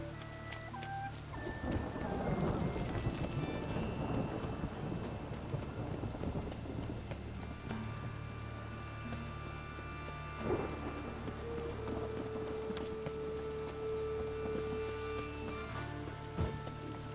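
Rain pours and thunder rumbles through a stormy scene in the video game The Witcher 3: Wild Hunt on PC, with heavy steady rainfall, a long rolling thunder roll, a sharper crack midway and faint tonal game sounds beneath.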